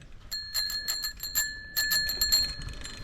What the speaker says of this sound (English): Broken, world's crappiest bell.